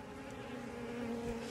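Honey bees swarm around an open hive and make a steady, faint buzzing drone that continues throughout with no voices.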